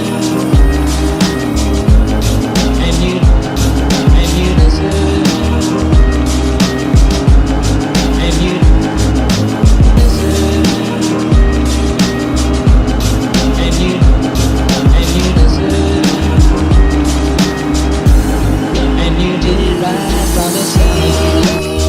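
Engine of a 1955 Mercedes-Benz 300SL Gullwing in a Roblox racing game, revving loudly and continuously as it accelerates in a straight line, with a steady droning tone throughout and no talk.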